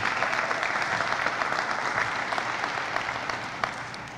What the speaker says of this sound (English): Nice round of applause for our county executive.